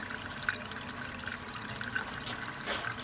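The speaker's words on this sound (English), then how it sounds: "Slowly feeding, ever so slowly feeding my cleanup sluice." Steady water flowing through a gold cleanup sluice fed very slowly and consistently, a soft continuous trickling wash with no speech.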